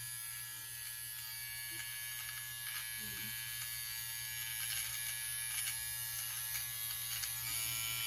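A nose and ear hair trimmer buzzes steadily right at the ear, a constant close electric whine that holds level throughout with slight shifts in tone.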